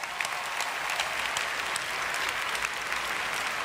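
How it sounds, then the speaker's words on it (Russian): A concert audience at the New Wave 2018 show gives sustained applause for a band's founder, a dense, even roar of many hands clapping with a few sharper claps standing out, steady from start to end. "под ваши бурные аплодисменты"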